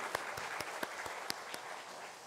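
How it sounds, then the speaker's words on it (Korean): A church congregation at a Korean Sunday worship service in Namyangju claps together in a steady, even rhythm, each clap distinct and evenly spaced, fairly soft in a reverberant hall. "하나님 앞에 큰 영광의 박수 올려드리겠습니다"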